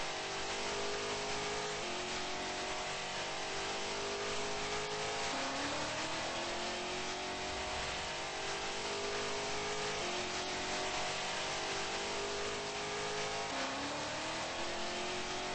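Race car engine in a racing video game, revving steadily and accelerating through the gears, with rising pitch sweeps and brief dips at each shift, loud and continuous throughout.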